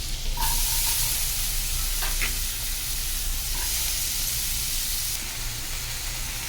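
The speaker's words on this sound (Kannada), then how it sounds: "ಇದಕ್ಕೆ ಇವಾಗ ಕಟ್ ಮಾಡಿದ ಆಲೂಗಡ್ಡೆ ಮತ್ತು ಕ್ಯಾಪ್ಸಿಕಮ್ಮು, ಈರುಳ್ಳಿ ಇದನ್ನು ಒಂದೇ ಸಲ ಹಾಕಿ ಫ್ರೈ ಮಾಡಲಿಕ್ಕೆ ಇಡ್ತೇನೆ." Cut potatoes, capsicum and onion fry together in a pan, filling the space with a steady broad sizzling hiss, loud and close, with a few soft stirring scrapes and no talking.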